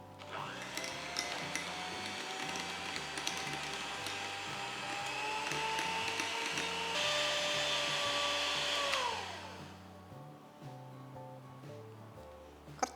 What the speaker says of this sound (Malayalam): 1/2 കപ്പ് വിപ്പിംഗ് ക്രീം വിപ്പ് ചെയ്തെടുക്കാം.